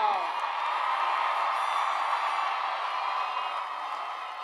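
A large commencement crowd at a university graduation ceremony cheering loudly, a broad sustained roar of voices and whoops that holds steady and eases slightly toward the end.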